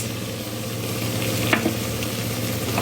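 Chili, coriander, garam masala and chicken masala powders frying in oil for a mushroom biryani, a dense continuous sizzle with a brief stirring scrape.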